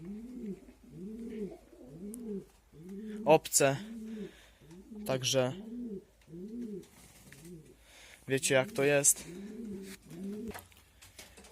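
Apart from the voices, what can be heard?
homing pigeons cooing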